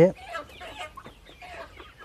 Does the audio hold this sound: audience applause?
no